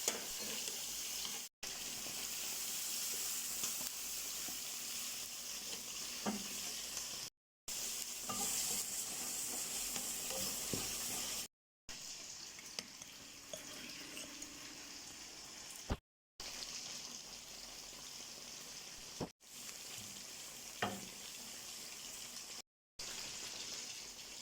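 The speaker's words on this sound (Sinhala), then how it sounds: "ඒක මුකුත්ම නැතුව බදිනකොට කැරමල් කරගන්නවා වතුර චුට්ට චුට්ට එකතු කරලා" A pan of sugar fries and is stirred while it caramelizes, with small splashes of water added, for an Arabic-style rice dish with mung beans and dried prawns. Quiet sizzling and scraping run in several segments separated by short silent cuts.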